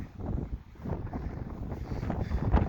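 Wind buffets the microphone on the summit of Longs Peak in Colorado, a low, rumbling, gusty roar that rises and falls continuously and close, with no talking.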